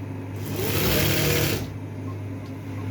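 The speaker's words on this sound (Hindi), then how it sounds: "हमने फिर वैसे ही सिलाई सीधी लगा देनी है इस पर भी।" A sewing machine runs a straight seam across a pleated kameez front panel: a close, steady rattling burst of just over a second, set against a constant low background hum.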